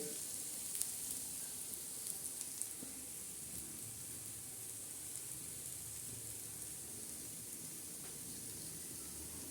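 Chana dal chutney with red chili and garlic cooks in an uncovered pan over low gas, giving a faint, steady sizzle with light stirring scrapes throughout.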